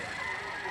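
Chickens at a poultry sale in a livestock auction market in Lipa, Batangas, give a brief, steady burst of clucking and crowing noise, close and dense, with no talk.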